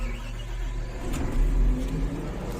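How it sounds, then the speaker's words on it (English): A Caterpillar engine starts up during commissioning and revs, giving a steady low rumble that swells in the middle and then holds, close and fairly loud with no talk. "Now we're going to start the machine,"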